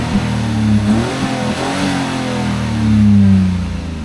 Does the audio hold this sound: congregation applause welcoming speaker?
no